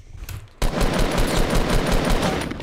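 Rapid automatic gunfire in the video game Fortnite, a loud sustained burst of evenly spaced shots starting abruptly after a quieter moment and rattling on without pause, no speech.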